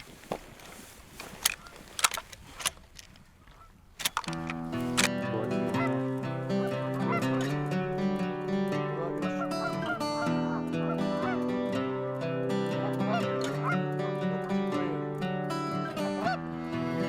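Canada geese honking during a goose hunt in Saskatchewan: several loud, sharp honks ring out over the first few seconds before steady music takes over.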